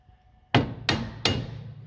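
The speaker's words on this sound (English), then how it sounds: "my lump hammer here" A lump hammer strikes a Peugeot 207 rear wheel cylinder three times in steady succession, each blow a sharp, close metallic knock with a short ringing decay, in a quiet workshop with no talk.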